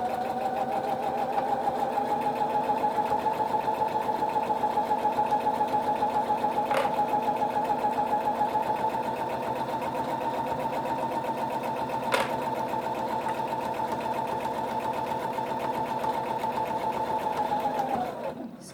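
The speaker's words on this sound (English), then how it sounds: "Then sew down the next side." Sewing machine stitching fabric for a reusable kitchen towel, a steady close motor hum with rapid needle chatter held for a long even run, broken by two brief clicks and winding down at the end.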